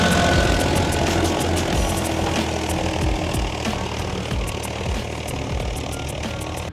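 A Farmtrac 45 tractor engine runs steadily out in a farm field, a loud continuous rumble with a rapid chugging beat and faint clicking above it, holding level throughout with no voices.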